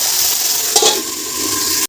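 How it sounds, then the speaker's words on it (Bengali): Okra fries over high flame in a pan, a loud, steady bright sizzle with a brief stirring burst midway and an abrupt cutoff at the end. "এবারে হাই ফ্লেমে এটাকে ঢাকা চাপা দিয়ে ভালো করে ভাজাভাজি করে নেবো"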